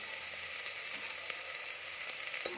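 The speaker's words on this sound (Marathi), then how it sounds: "तेल छान गरम झालं की त्यामध्ये बारीक चिरलेला कांदा घालायचा आहे कांदा छान परतवून घ्यायचा आहे" Finely chopped onion frying in hot oil, a steady bright sizzle with faint occasional pops and ticks, close and continuous over a few seconds.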